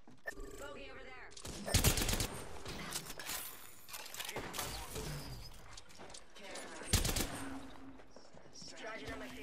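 Gunfire in the battle-royale shooter Apex Legends, with bursts of shots and loud impacts scattered across the stretch amid game effects, with a player talking over it.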